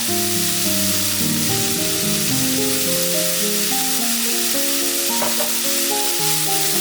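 Spiny gourd (kantola) sautés in a pan with chilli powder and salt, giving a steady, loud sizzling hiss over a tonal melodic background, with no voices.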